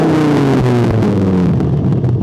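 A Dodge Viper fitted with a Belanger exhaust is revved high, its deep, loud engine rumble swelling and shifting pitch close by, with no talk.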